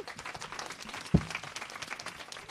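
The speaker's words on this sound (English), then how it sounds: "Let's give them a big round of applause." Audience clapping at a live startup founder event, a steady wash of applause with one sharp louder clap near the middle, moderately loud and continuous throughout.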